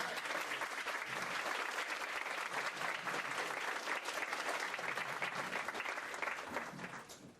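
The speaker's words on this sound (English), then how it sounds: "your applause is welcome" An audience at a university alumni lecture claps steadily in a dense, sustained round of applause that holds for several seconds before tapering slightly at the end.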